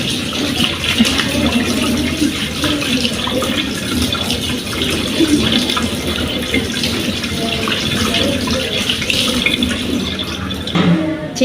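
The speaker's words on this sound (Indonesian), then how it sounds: "Langkah selanjutnya adalah cuci tangan menggunakan sabun dan juga air mengalir." Steady running tap water splashing into a sink during handwashing with soap, a continuous close gush with faint rubbing and splatter that stays unbroken throughout.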